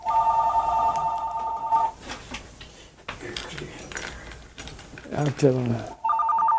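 Indoor telephone ringing in loud repeated electronic trills at the start and again at the end, with a person speaking and handling noises in between.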